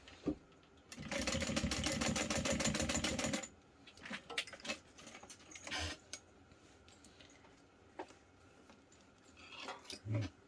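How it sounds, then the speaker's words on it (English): Sewing machine stitching seams on a Denver backpack: a fast, even mechanical clatter runs for a few seconds, then stops, followed by scattered clicks, taps and handling of the fabric. "I'm going to sew 2 lines, making sure to back stitch"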